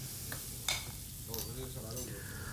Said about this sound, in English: Make sure you mix it well.